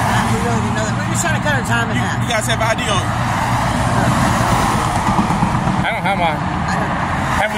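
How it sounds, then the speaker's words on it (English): Highway traffic rumbles steadily in the background beside a roadside encounter, where several people speak loudly over the constant drone of passing vehicles. "You can hear that traffic in the background"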